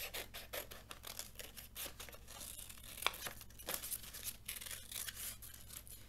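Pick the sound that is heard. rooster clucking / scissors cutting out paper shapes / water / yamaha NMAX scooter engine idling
scissors cutting out paper shapes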